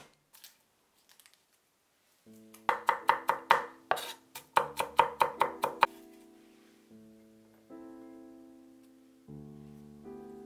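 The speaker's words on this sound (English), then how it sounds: "Chop 4 cloves of garlic." Four garlic cloves being chopped with a knife on a cutting board, heard as two quick bursts of crisp, evenly spaced chops, followed by soft tonal chimes.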